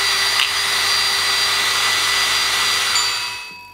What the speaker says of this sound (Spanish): y a pulir el colmillo.